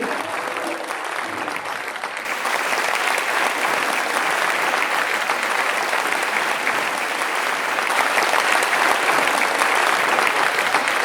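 A school audience gives sustained applause as Class 12 students of the first batch receive certificates at their farewell celebration; the clapping is thick and continuous, swelling slightly louder toward the end.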